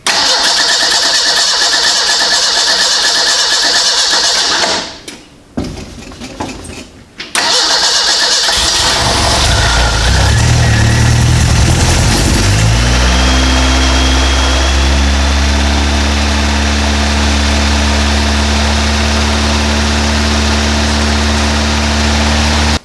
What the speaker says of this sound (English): we'll try to see if the car will start